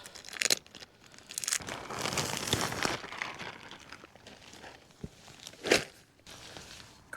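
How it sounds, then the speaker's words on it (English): A plastic bag being pulled off a new OneTigris Coco Nest four-season hot tent, close crinkling and rustling in uneven bursts with a few sharp crackles, faint and alone. "Should maybe take the plastic bag off it first"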